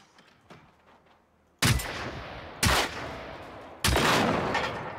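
Three loud, sharp gunshots from the video game Generation Zero, spaced about a second apart and each trailing into a ringing decay, following a quieter stretch of faint background game sounds.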